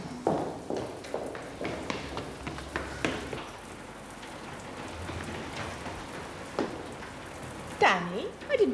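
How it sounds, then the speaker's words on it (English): Rain falling outdoors at a school, a steady patter of drops on surfaces with scattered louder splashes, while people talk over it. "How long's it been raining?"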